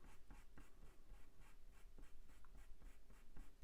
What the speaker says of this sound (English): So I've just put a bit more pressure on with my pencil